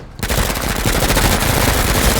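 Rapid, continuous submachine gun fire in the tactical video game Menace, a loud dense stream of shots rattling without pause for about two seconds after a brief quiet start.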